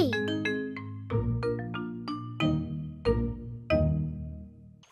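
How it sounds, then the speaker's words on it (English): A cartoon hand bell is rung to call a rowing boat: a series of bright, ringing chimes in an irregular rhythm, each struck clearly and left to decay, loud and close with no talk over them. "You call it by ringing this bell."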